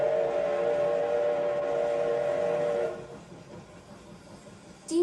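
A steam locomotive at the Steamtown museum gives a sustained, fairly distant whistle blast for about three seconds, then fades into quiet rumbling background.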